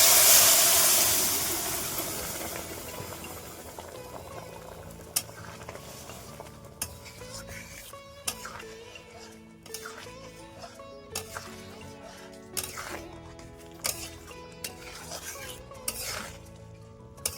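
Spiced masala is stirred and fried in a kadai, with repeated metal scrapes and clinks of a spoon against the pan over a soft sizzle. An early burst of steam hiss fades, and the stirring strokes continue irregularly.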